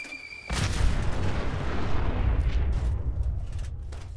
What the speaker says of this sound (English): it just creates a huge explosion